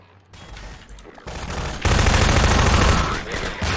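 Gunfire in Half-Life 2: Episode One, a dense close burst of rapid shots that swells to a loud sustained roar of firing halfway through before easing slightly.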